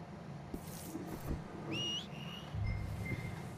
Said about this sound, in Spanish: Silbamos al caballo,